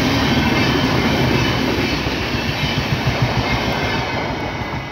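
Akal Takht Superfast Express, the Amritsar–Kolkata train, rumbles past close by as a loud, steady broadband roar with rhythmic wheel clatter, holding level throughout and easing slightly at the end.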